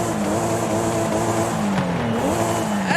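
A 2020 Toyota Supra in the Forza Horizon 5 racing game revs loudly and continuously, its engine tone rising and falling over a droning exhaust with no talk.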